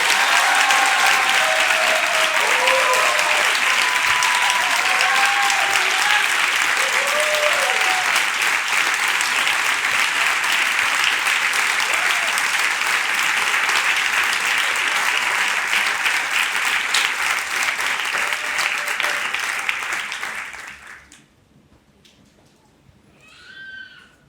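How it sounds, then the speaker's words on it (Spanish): A church congregation applauds loudly and continuously during a sermon, a thick roar of clapping with voices and cheers mixed in that rolls on for about twenty seconds before stopping abruptly, leaving quiet. "Si le vas a aplaudir, apláudele con todo."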